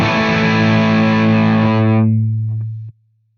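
An electric guitar runs through a Suhr PT100 amp plugin with the noise gate on, a loud distorted sustained chord ringing before the gate clamps it shut into abrupt silence.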